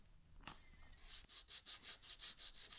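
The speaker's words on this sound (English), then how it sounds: "I usually like to make a template so that I can sand the flat area" Rhythmic hand sanding on wood, a steady series of scratchy back-and-forth strokes growing regular, close and fairly quiet, with no voices.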